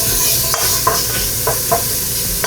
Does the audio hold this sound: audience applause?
no